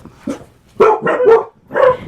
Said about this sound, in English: I had a delivery and my dogs went crazy